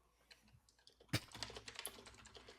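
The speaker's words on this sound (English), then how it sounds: "now we're all just typing." Rapid clicking of computer keyboard keys, quiet at first and then a denser burst of close, irregular keystrokes continuing to the end, with no talk over it.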